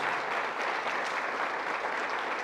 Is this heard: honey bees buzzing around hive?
no